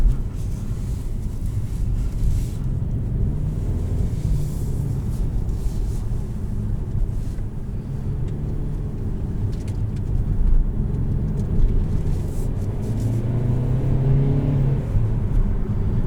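A 2021 Kia Soul GT-Line accelerates at part throttle, its engine a loud, steady low rumble heard from inside the cabin, the drone rising gradually in pitch as speed builds.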